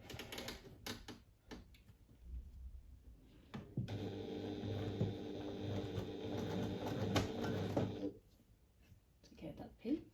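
A home sewing machine stitches steadily for about four seconds with a long whirring run at a 3.5 stitch length, surrounded by clicks and handling noises.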